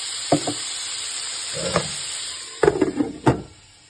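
Vegetables for bisibele bath frying in a pan: a faint, steady high hiss, broken by a few scattered spatula scrapes and clinks close by.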